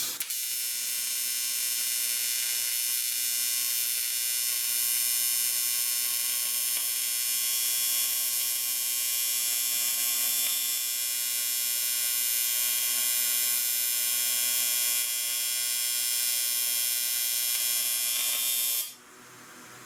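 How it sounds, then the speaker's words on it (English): TIG welder running a continuous bead across a crashed aluminum boat ladder during a repair, a steady loud buzzing hum with fine crackle that holds for about nineteen seconds, then cuts off abruptly near the end. "I'll fill that in and then try to weld all the way across"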